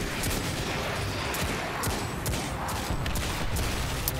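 Baelings, the exploding enemies in Destiny 2, detonate again and again in a rapid run of sharp blasts over continuous loud combat noise.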